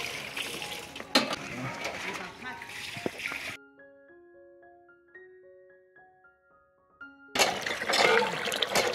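Fresh water runs and splashes nearby in a rural home setting as a loud, steady gush. It stops for a few seconds of soft melodic tones, then returns just as strongly.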